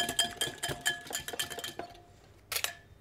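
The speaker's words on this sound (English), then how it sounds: "I'm going to add some cumin powder, a little bit of seasoning, and now I'm just going to whisk that up." A whisk or spoon clinking rapidly against a bowl while mint leaves, cumin powder and seasoning are mixed, giving fast bright metallic taps for about two seconds, a pause, then one more short burst, close with no talking.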